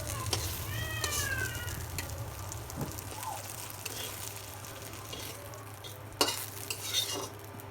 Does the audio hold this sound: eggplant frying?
yes